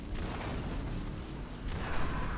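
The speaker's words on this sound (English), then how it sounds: "Everything is blowing up." Explosions in Grand Theft Auto III chain through cars in a game scene: a dense, continuous rumbling roar of blasts and booms, loud and unbroken, with a fresh burst swelling near the end.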